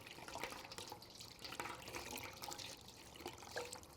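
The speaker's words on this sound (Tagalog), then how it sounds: "Huhugasan natin ang mga kamay natin ng 3 beses." Tap water runs into a basin while hands are washed three times for ritual ablution. It is a faint, continuous trickle with light splashing and no speech.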